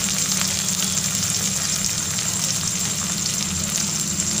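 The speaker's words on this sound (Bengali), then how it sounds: "পেঁয়াজটা মোটামুটি ভাজা হয়ে গেছে, এর মধ্যে দিচ্ছি পেঁয়াজ বাটা।" Onion paste sizzles steadily in hot oil over partly fried onions while cooking hilsa fish pulao, a constant bright crackling hiss close to the microphone with no talking.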